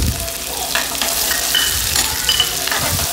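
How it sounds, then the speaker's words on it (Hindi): Finely chopped onion, garlic and green capsicum fry in a hot pan with a loud, continuous sizzle, broken by the scraping and clatter of stirring. "प्याज को थोड़ा सा अच्छा सा गोल्डन ब्राउन होने तक अपन इसको कुक करेंगे"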